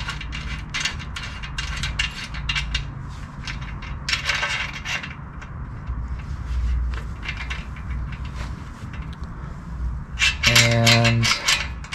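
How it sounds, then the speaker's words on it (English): Metal parts of a locking skewer clink and scrape as it is fitted to a public C7 Cruiser bike wheel and a key is worked into it, with close, irregular clicks and rattles and a sharp ringing metallic clank near the end. "And then I'll put the locking skewer on top of this. And I'll get the key in."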